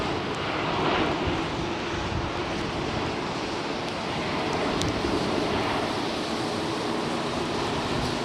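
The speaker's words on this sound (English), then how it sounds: "767-400 with Delta Airlines firing up over there." Delta Air Lines Boeing 767-400 jet engines spooling up at London Heathrow Airport, a steady broadband roar heard from a distance with wind noise throughout and no talking.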